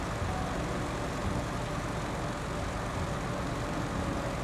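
Truck engine in the SnowRunner video game, a steady low droning rumble running continuously at moderate level with no breaks, no talk over it.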